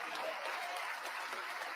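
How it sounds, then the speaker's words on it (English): Sparse audience applause in a church setting during a gospel sermon, a steady wash of light clapping lasting under two seconds, fairly faint and without talk over it. "Well, not that many people clap their hand."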